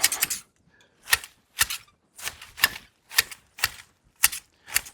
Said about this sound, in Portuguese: hoje eu estou fazendo isso com a tesoura